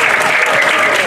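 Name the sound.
audience applause at lighthouse relighting ceremony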